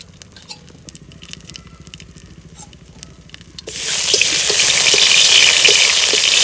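Oil goes into a hot pan for tempering, a soft drip and trickle first, then a loud sudden hiss that jumps up and keeps sizzling steadily to the end.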